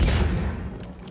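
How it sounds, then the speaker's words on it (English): A grenade goes off in the video game Uncharted: one short, dull boom at the very start, rolling off quickly into a fading rumble. "Good freaking grenade."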